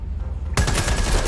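A shotgun fires in Watch Dogs Legion, cutting in abruptly after a quiet stretch, with a loud, dense burst of gunfire that carries on through the rest of the moment up close.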